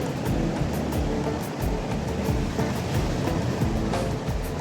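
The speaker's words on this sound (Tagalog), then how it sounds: "Sobrang lakas ng alon." Large typhoon-driven waves crash onto the beach at Punta Fuego during Typhoon Crising, forming a loud, continuous roar of surf with no break and no voices.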